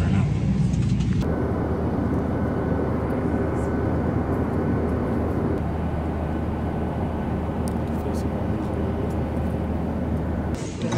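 Steady, loud roar of a fixed-wing airliner's engines during boarding, a dense continuous drone with no breaks and faint talk mixed in.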